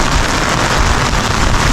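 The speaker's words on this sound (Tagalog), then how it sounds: "Malakas ang ulan." Heavy downpour during flooding with no storm, a dense, loud, continuous hiss of rain beating on surfaces.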